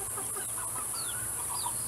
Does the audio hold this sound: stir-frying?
no